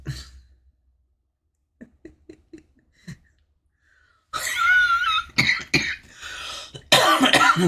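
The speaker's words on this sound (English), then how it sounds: "I'm still getting over this crazy cough." Faint breathy sounds, then a series of harsh, loud coughs close to the microphone in a couple of clustered bursts.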